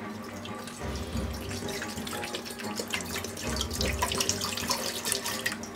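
Tap water runs steadily in a broad hiss, splashing and rising into a measuring cup for several seconds, close by with no talking.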